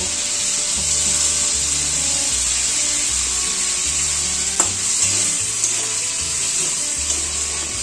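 Fish frying in hot oil for a Bengali-style macher jhol, a steady close sizzle running throughout with a faint clink near the middle over a low background hum.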